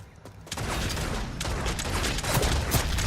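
Gunfire in the video game Realm Royale, a rapid run of sharp shots and impacts starting after a brief quiet moment, dense and loud up close.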